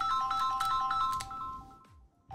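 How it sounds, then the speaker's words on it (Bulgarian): A phone ringtone plays a repeating electronic melody of bright, clear tones for about two seconds, then cuts off into quiet with a brief chirp at the end. "пак ми звъни, бе! Няма да вдигна."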